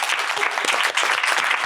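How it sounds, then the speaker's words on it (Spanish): Studio audience applause during a Spanish-language health talk on controlling blood glucose, a brief, close, dense patter of clapping lasting under two seconds. "Un aplauso."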